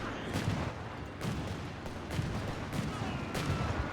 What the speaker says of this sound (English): Machine gun caught up with the Bofors.